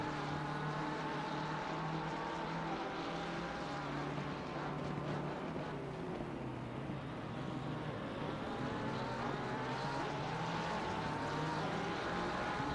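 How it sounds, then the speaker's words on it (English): Steady helicopter rotor drone in the Assetto Corsa Competizione sim racing game at Zolder, a continuous loud mechanical hum with layered engine tones running unbroken throughout, no talk. "we have the sound effect of the helicopter in the background to remind us that we need a helicopter view"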